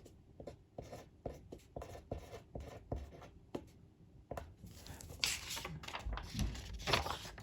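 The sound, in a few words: writing a word on a piece of paper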